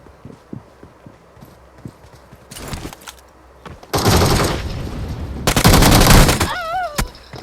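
Loud shotgun gunfire rings out in a video game match as two heavy blasts close by, following quieter rhythmic footsteps and small clatters.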